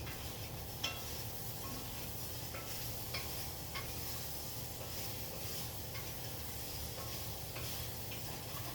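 Food browns in a pan with a steady, close sizzle and hiss running throughout, broken by a few scrapes and stirring clicks from a utensil.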